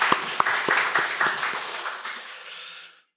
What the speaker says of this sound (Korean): 우리 성가대 수고하셔서 우리 박수 한번 하겠습니다.